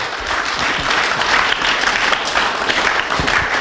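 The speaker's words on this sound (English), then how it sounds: "So huge round of applause for the Dr." Audience applause after a heart health talk, thick continuous clapping from a close, fairly loud crowd, heard on its own throughout.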